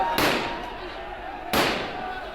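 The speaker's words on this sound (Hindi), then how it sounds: "स्थिति को नियंत्रण में लाने के लिए पुलिस को ये हवाई फायरिंग करनी पड़ी है" Two sharp, loud gunshot bangs about a second and a half apart as police fire into the air during a violent clash between two communities in Patiala, each crack ringing out over outdoor background noise.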